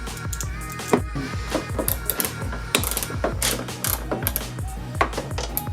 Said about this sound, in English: Then you can just start bolting it down.